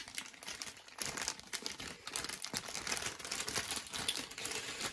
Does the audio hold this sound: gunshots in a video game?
no